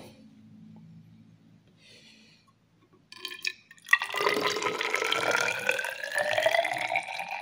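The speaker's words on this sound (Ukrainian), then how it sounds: "І переливаємо в мірний циліндр всю воду з калориметра для того, щоб визначити її загальний об'єм." Water poured from a calorimeter into a measuring cylinder during a school physics lab: faint dripping first, then after a short pause a loud gurgling splashing stream that runs on steadily.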